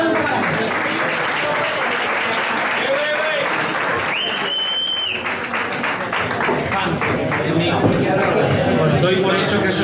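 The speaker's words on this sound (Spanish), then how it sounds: "Un aplauso para ti" Loud, continuous applause fills a room at a restaurant guide launch event, with cheering and chatter mixed in and a few whistles rising above the clapping.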